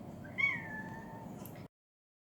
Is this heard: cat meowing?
yes